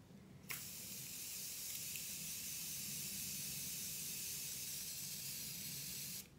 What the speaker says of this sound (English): Morphe setting spray to dampen your beauty blender